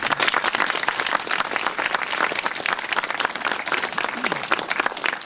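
Crowd applause at an outdoor Armistice 1918 commemoration ceremony in France, honoring firefighters and gendarmerie representatives; dense, steady clapping from many hands sustained throughout, fairly close and loud, with no voices over it.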